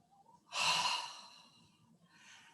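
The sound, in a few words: deep breathing, inhale and exhale during exercise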